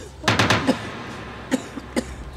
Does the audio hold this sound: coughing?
yes